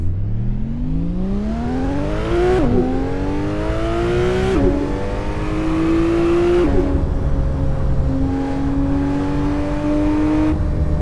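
The CA-9 Saratoga driven up an uphill road in the Assetto Corsa racing game, its engine climbing steadily through the gears with a brief dip at each of several upshifts, loud and continuous with no talk.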